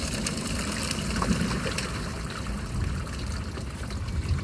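Liquid worm food poured through a worm-bin tray used as a strainer, a steady close trickling and splashing that runs evenly throughout with no speech.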